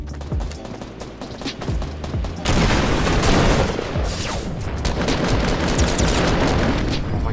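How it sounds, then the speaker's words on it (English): Gunfire fills a Fortnite match on Nintendo Switch, with dense, rapid bursts of shots and booms that grow louder and heavier partway through. "Is this person even shooting anyone?"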